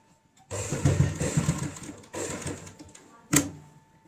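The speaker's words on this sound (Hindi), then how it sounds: "अब हम इसको ऐसे पलट लेते हैं और यहाँ पे ऊपर से सिलाई लगाएंगे" A sewing machine topstitches a homemade ladies' purse tote bag, running in two loud bursts of steady mechanical whirring separated by a short pause, followed by a brief sharp clack.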